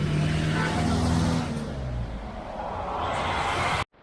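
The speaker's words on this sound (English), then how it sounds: "Oh, this causes a lot of traffic." Road traffic with cars passing close by, a broad loud engine and tyre rush with a low vehicle hum early on, steady throughout before cutting off abruptly at the end.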